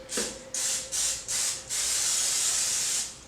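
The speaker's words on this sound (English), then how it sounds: "then I'm going to spray these" Several short bursts of oil spray hiss onto ravioli, then one longer continuous spray, close and steady.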